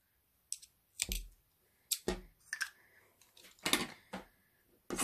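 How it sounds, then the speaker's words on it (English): Scissors snip crochet thread in a few sharp, close clicks spaced about a second apart against quiet surroundings. "now we're going to cut our thread"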